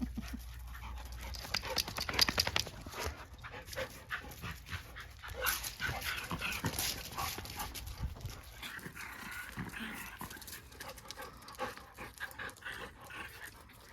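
A newly adopted shelter dog pants steadily and rhythmically close by, with some shuffling movement and faint background noise, and no talking.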